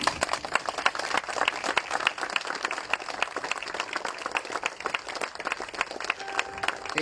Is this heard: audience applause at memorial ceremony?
yes